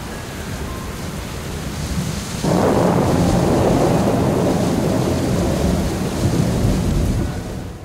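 Heavy rain pours down at night, a steady dense hiss that swells suddenly louder partway through and stays loud, with no voices.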